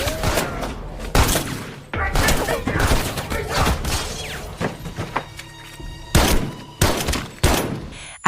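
Gunfire in a prison-themed film scene where a police officer is shot: a series of sharp, loud bangs in scattered bursts, mixed with thuds and crashing impacts, with voices faintly underneath.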